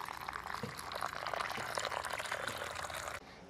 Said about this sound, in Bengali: পাপড়িগুলো ভালো করে ধুয়ে নেব 2 থেকে 3 বার।